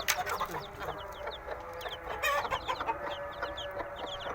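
A hen clucks softly beside her local baladi chicks, whose high peeping chirps repeat throughout, close by with faint background noise and occasional quiet voices.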